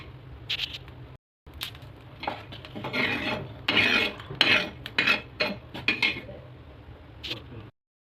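Roasted coconut is scraped out of a pan, a series of close metallic scrapes and rasping rubs against the pan in uneven bursts, with a short pause near the start and no talking.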